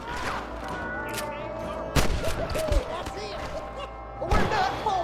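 Gunfire in the video game Red Dead Redemption, several loud sharp shots cracking amid game dialogue, with bursts at the start, middle and end over a steady background.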